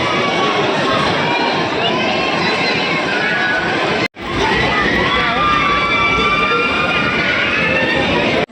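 A dense, loud crowd at Trombay village fair during Ram Navami, with continuous chatter, shouting and children's voices close around, broken by one brief dropout midway.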